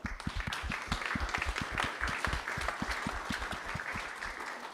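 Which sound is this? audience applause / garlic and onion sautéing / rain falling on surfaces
audience applause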